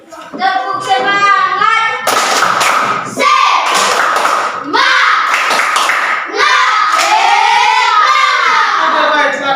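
Classroom children perform a 'tepuk semangat' clapping chant, their voices chanting loudly in bursts with rhythmic claps and thumps, close by and lively.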